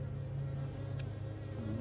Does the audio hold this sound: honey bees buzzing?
yes